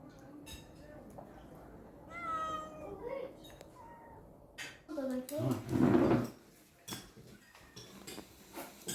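Domestic cats meow several times in a home kitchen, close and fairly loud, with a couple of sharper, louder cries near the end, mixed with clattering dishes and cupboard sounds and people talking nearby.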